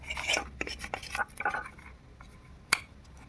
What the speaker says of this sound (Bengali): এই ব্রাশটা নিয়ে আমি এবার ওটা পরিষ্কার করছি